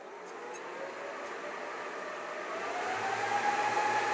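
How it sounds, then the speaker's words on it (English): A Compaq ProLiant DL380 G2 rack server powers up, its fans producing a steady broadband whoosh that swells gradually louder, with a thin rising whine coming in toward the end, close and continuous. "the server is going to be very loud"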